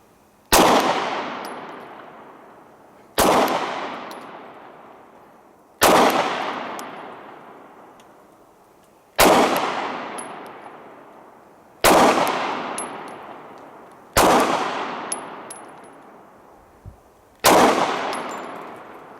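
Seven sharp 9mm pistol shots fired one at a time at a target eight yards away, each a loud crack with a fading echo, spaced about two to three seconds apart.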